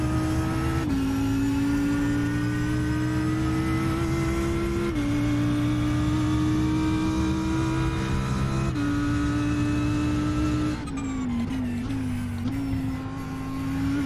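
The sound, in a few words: GT3 race car engine in iRacing video game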